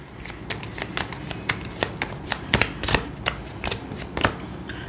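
A deck of oracle cards being shuffled by hand, a quick run of crisp riffling slaps and flutters repeating in close bursts with no talking.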